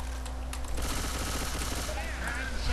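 Rapid bursts of gunfire in the zombie shooter game Left 4 Dead 2 crackle in quick succession, loud and close, with a voice faintly heard near the end.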